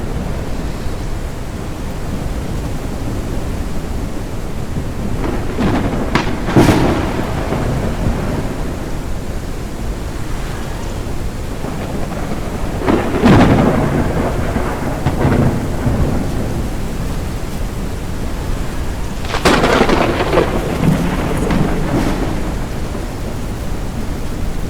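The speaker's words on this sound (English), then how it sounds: "A storm is coming." Thunder rolls in three separate bursts during a steady, loud downpour in the video game Forever Skies. The noisy rain runs throughout and each rumble swells and then fades.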